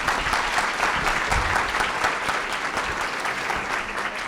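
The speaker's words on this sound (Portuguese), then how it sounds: "Ana Paula e Brianda, um aplauso para elas." An audience claps together after a talk, a steady moderate round of applause from many hands that holds for a few seconds at fairly even loudness with no voices above it.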